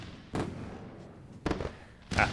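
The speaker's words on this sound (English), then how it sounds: "Fireworks bust." Three loud, sharp firework bursts sound a second apart as a sound effect over a live trading stream, each a sudden broadband boom with a short crackling tail.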